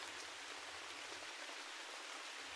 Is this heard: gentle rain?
yes